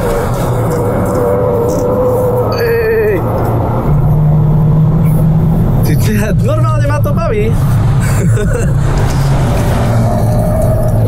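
A VW Beetle race car engine roars at full throttle on the Slovakiaring circuit, a loud steady drone that runs throughout beneath in-car talk.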